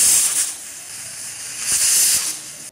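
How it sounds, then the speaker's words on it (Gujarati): A pressure cooker with fada vegetable khichdi inside lets out a sharp high steam whistle and hiss, swelling loud at the start and again near the end with a steady hiss between. "કુકરનું ઢાંકણ બંધ કરી અને 3 વિસલ કરી લઈએ"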